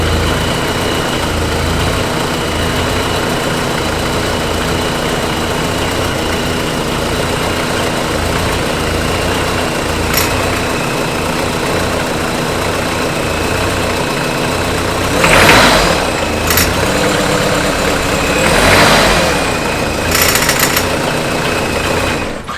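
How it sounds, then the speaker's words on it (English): A running 26-year-old Vans engine idles steadily and loudly with a rattling pipe, a constant mechanical clatter over the hum, punctuated near the end by a few sharper metallic bursts. "That pipe rattling is no good."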